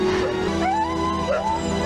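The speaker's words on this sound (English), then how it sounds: "A dog!" A dog in a James Bond film, GoldenEye, gives a brief whining, howling cry with rising and falling tones over steady background sound.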